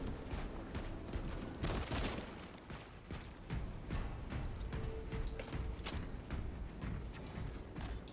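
Gunfire in Warhammer 40,000: Space Marine 2 comes as dense, irregular volleys of shots and impacts amid a busy combat din, moderately loud throughout with no clear speech.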